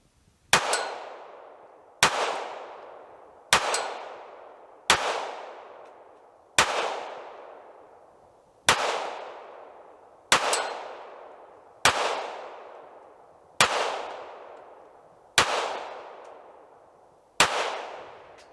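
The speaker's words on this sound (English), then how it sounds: "Even in the weak hand, the gun is really easy to shoot." FN Five-seveN pistol fired left-handed, a dozen sharp, loud shots spaced about one and a half seconds apart, each with a ringing decay outdoors, no talking between them.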